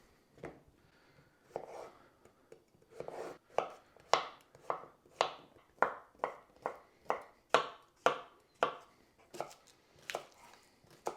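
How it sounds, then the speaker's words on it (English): Knife roughly chopping green onion, bratwurst and other frittata ingredients on a board, a steady run of close, crisp knocks that start sparse and grow into an even, rapid rhythm, with no talking. "now we're gonna do a little chop. Just rough chop for everything"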